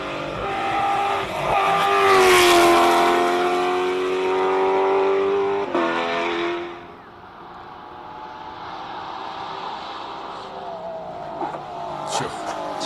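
Hillclimb race car at the Simola Hillclimb King of the Hill shootouts, loud engine note rising through the revs, a quick shift and a second pull, then fading into the distance.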